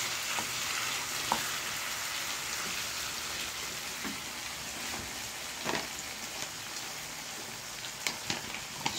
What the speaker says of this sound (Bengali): ঢাকনা খুলে একটু নেড়ে দিতে হবে।